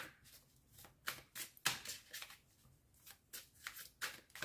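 Tarot cards being shuffled for a card reading, a series of close, crisp riffling bursts in an uneven rhythm, with quiet pauses between them.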